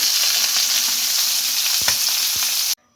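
Chicken pieces frying on high flame, a steady loud sizzle with a few clunks of turning, cutting off abruptly near the end.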